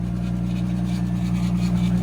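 A car engine idles steadily with a low, even hum and a faint rapid ticking from the valvetrain running underneath, close by and continuous with no talking.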